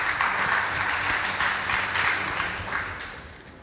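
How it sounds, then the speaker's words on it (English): A crowd claps and applauds steadily for a few seconds, the sound gradually thinning out toward the end. "Please give them a round of applause."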